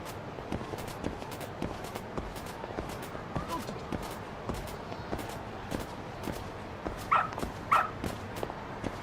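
A dog in the video game Lost Judgment gives two short barks near the end, heard over steady rhythmic footsteps with a voice talking in the background.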